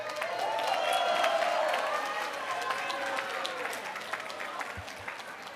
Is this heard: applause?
yes